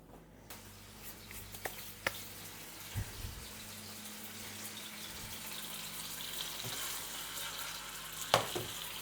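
Chopped bacon fries in olive oil with a soft, steady sizzle, broken by a few faint clicks and clatters of a pan or utensil and a low background hum.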